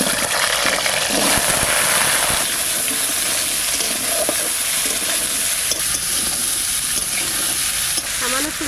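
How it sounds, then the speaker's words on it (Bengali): Garden-fresh mixed vegetables fry in mustard oil with a loud, steady, close sizzle and occasional scraping as they are stirred. "সর্ষের তেল, এই সবজিগুলো দিয়ে দিচ্ছি।"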